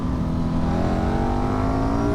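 A 2008 KTM RC8 motorcycle's LC8 engine hums steadily up close, its pitch climbing smoothly as the throttle is blipped by hand, with no voices.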